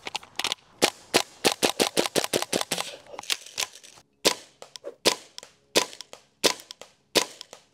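An airsoft gun emptying its magazine of 0.32 g BBs, sharp dry cracks fired in quick irregular bursts, then slower single shots after a short pause, close and loud with no talk.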